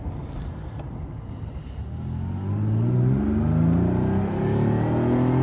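A 1974 Ferrari 246 GTS Dino engine, cold, pulls up through first to third gear, its mid-pitched note rising with each gear and growing louder and nearer as it revs, with no talk over it.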